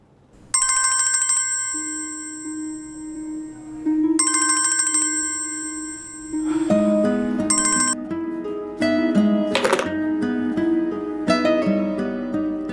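A phone's ringtone sounds out for an unanswered call, a bright electronic trill repeating in several bursts before a musical backing swells beneath it, with no talking.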